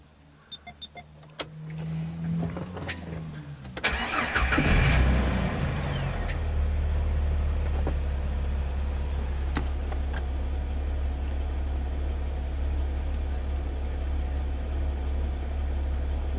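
Jeep engine with a long-crank fault (code P0335), cranking briefly, then catching with a loud burst and settling into a steady, close idle that runs on alone.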